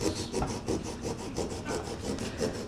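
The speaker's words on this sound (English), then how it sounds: "carve pumpkins, like as you see what Brady is doing over here, demonstrating with his knife" A knife carving a pumpkin at a Samhain costume-contest gathering, with a steady series of rhythmic scraping, rasping strokes close by, roughly five per second, continuing evenly without speech.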